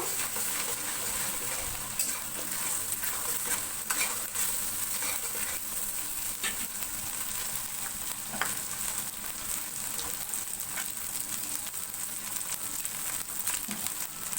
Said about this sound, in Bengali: এই মশলার কাঁচা গন্ধ যাওয়ার জন্য আমি সাদা তেল, ঘি, বাটার দিয়ে আমি মশলাটা আগে একটু কষে নেব।